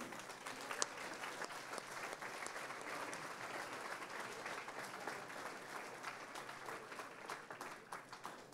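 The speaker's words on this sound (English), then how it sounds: "Can we get another round of applause for our Riverside and Berta Cavaza students?" An audience at a school board meeting applauds middle school students, a faint, steady round of clapping from a moderately sized crowd, with a brief louder clap near the start and a few voices underneath.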